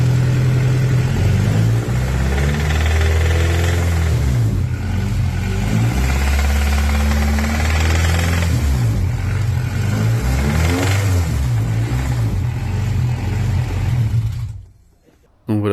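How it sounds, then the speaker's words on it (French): A Honda Civic with a swapped B18C6 engine runs loudly at idle with a steady mechanical knocking rattle throughout, close to the engine, then cuts out abruptly near the end. "le moteur s'est mis à claquer de ouf"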